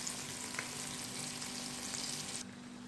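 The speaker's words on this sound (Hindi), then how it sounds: "ऑयल में शैलो फ्राई कर लेंगे। धीमी आंच से 2 से 3 मिनट के लिए एक साइड" Mutton chops shallow frying in oil over a low flame give off a steady, close sizzle that runs unbroken and stays fairly even, softening slightly near the end.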